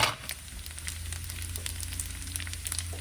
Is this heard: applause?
no